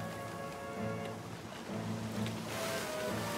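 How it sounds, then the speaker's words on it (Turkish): Big ocean waves surge and wash around a boat on a rough cartoon sea near rocks, a steady full roar of water over sustained musical tones throughout. "Dalgalar kocaman olmaya başladı."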